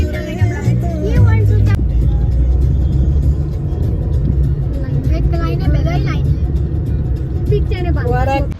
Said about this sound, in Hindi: आ गई है दूल्हे की गाड़ी